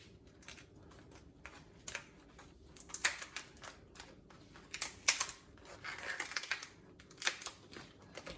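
A knife crunching and cracking through cooked lobster shell for a garlic butter lobster dish, giving irregular close-up crackles and snaps of varying loudness with no talking.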